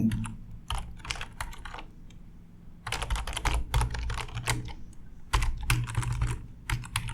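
Code typed on a computer keyboard, close and clear, in quick bursts of clattering keystrokes separated by short pauses, with no one speaking.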